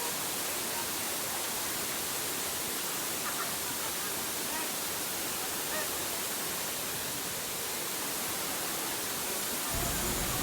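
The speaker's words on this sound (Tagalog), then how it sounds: "Sobrang ingay ng bagsak ng tubig" Daranak Falls in Rizal roars as a steady, loud wash of falling water, broadband and unbroken for the whole stretch, drowning out everything else nearby.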